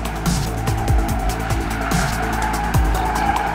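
A stock 2015 Audi on a test track accelerates hard with a steady, loud engine drone, punctuated by repeated short tire squeals as the car is pushed through corners.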